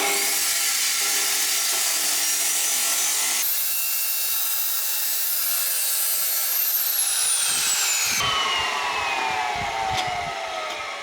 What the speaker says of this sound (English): So this is an abrasive chop saw cut, and it produces uneven or not square edges